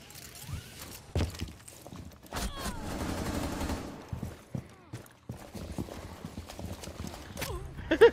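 Video game gunfire, with sharp shots and bursts scattered among footstep-like thumps and other game effects, while players talk over it.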